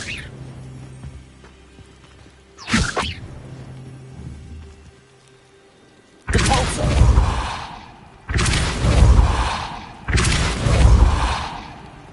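Blasting-spell explosions in Hogwarts Legacy: after a brief whoosh, three loud, booming blasts land in steady succession, each a heavy roar lasting over a second, with no voices over them.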